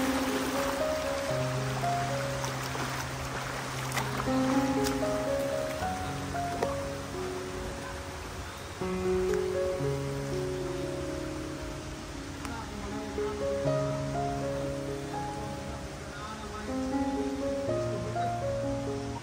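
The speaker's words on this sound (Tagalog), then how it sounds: "Medyo malakas po yung tubig." Strong floodwater rushes in a steady, broad roar after heavy rain and a storm that felled coconut trees, with voices speaking faintly over it and music playing in the background.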